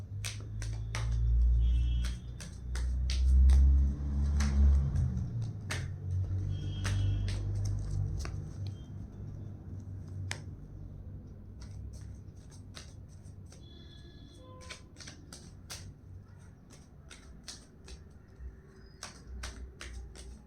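Tarot cards are drawn and handled from a deck, sharp papery snaps and flicks recurring irregularly over low muffled rumbling handling noise, close and fairly quiet.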